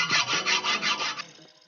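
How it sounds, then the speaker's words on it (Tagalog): Rhythmic back-and-forth rasping of a dull, worn hacksaw blade cutting, about six quick strokes, close and clear, then stopping. "mapurol tong lagaring bakal, maluma na rin kasi."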